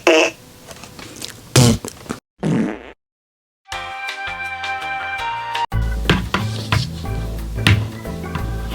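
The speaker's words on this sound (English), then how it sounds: "gotta close out with a fart" A fart sound effect closes out a podcast episode, with a few short bursts followed by a silent gap and then a loud, busy stretch of music and effects.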